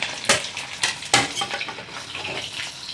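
Chicken pakora fries a second time in hot oil, a steady sizzle broken by three sharp clanks of a utensil against the pan and lighter stirring scrapes that follow.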